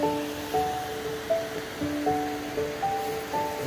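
A hidden waterfall in Glamis Woods pours with a steady rushing wash, heard at moderate volume beneath gently pulsing musical tones, with no one speaking.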